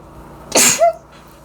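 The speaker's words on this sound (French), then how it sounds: "Je vais éternuer." A woman sneezes once, a sharp, loud burst close to the microphone with a brief breathy tail, in an otherwise quiet room.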